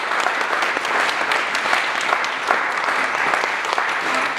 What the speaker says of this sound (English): Can you give Penny a round of applause?